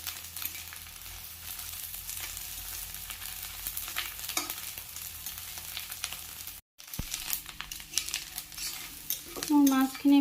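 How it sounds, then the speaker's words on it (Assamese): Dried fish fries in a pan with a continuous crackling sizzle and light stirring. The sizzle cuts out briefly before resuming, and a voice starts speaking near the end. "মোৰ মাছখিনি ভজা হৈ গৈছে।"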